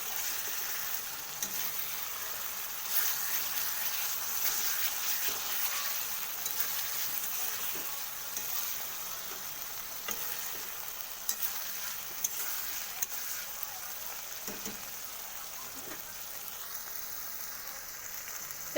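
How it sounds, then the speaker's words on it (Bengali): Mrigal fish curry in mustard oil sizzling in a pan, a steady hiss of frying with occasional faint stirring taps throughout, no voices heard. "দিয়ে এটাকে ভালো করে নাড়িয়ে নেব"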